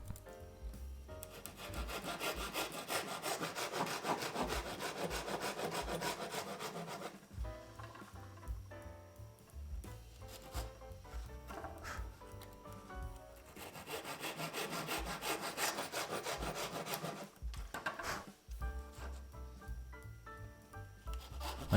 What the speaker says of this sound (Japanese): 軽く最初に定規当てて切っていくみたいな